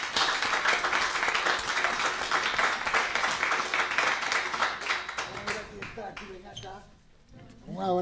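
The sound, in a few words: audience applause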